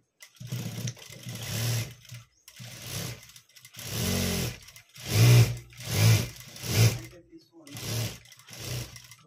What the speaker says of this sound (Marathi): फिटिंग करून घेते, स्टिच करते याला.